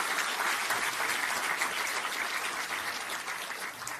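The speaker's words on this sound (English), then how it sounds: "Let us have a big round of applause for these special guests." Sustained applause from an audience welcoming special guests at an award ceremony, a dense, steady clatter of clapping that fades slightly toward the end.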